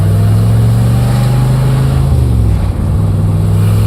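A 1967 Corvette convertible with a 427 engine pulls hard through the gears, its loud, close V8 drone holding steady, dipping briefly at a shift near the end, then climbing again.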